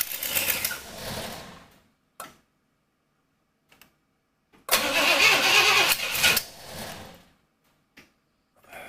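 A 1967 Pontiac Catalina with a new engine cranks and fires in two loud bursts, the first fading out after about two seconds, then silence with faint ticks before a second, longer roaring attempt that settles and trails off.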